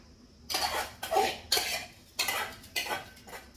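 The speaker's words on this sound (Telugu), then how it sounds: "బియ్యం వేసేస్తున్నాను." Dry rice poured into a metal cooking pot and stirred for coconut rice, giving a series of about six close, scraping, rattling bursts with short pauses between them and no talking.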